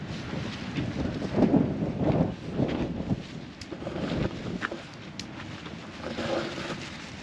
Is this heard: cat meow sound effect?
no